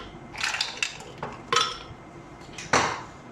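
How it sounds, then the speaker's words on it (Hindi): Ice cubes clatter and clink into a vessel of falsa sharbat, a few bright rattling bursts with the last one loudest, with no talk over them. "अब हम इसमें बर्फ़ डालेंगे।"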